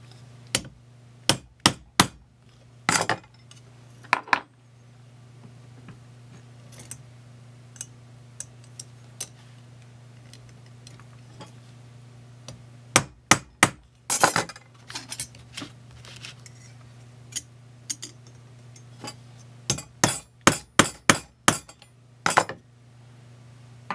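Hammer tapping a center punch on a tube, sharp metallic ticks in scattered clusters over a faint steady hum, close and isolated.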